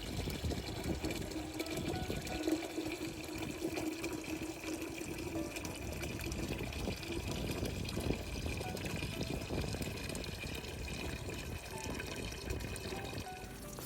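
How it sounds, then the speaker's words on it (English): Water pours and trickles steadily onto soil over newly planted sunflower seeds, a continuous splashing flow with a faint pump-like hum underneath, heard alone without talk. "So now we just need to give the sunflower seeds a good water"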